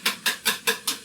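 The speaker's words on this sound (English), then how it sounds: "Whisk that in." Wire whisk beating cream into a spinach and feta quiche mixture in a bowl, five quick evenly spaced strokes, close and crisp.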